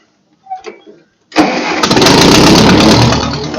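A Ferguson TO35 tractor engine cranks and fires up, settling straight into a loud, steady running rumble close by after a brief burst of faint sound.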